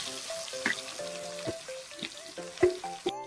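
Tomatoes and onions tipped into hot oil tempered with mustard seeds and curry leaves, a crackling sizzle mixed with tonal clinks and scrapes of a utensil in the pan.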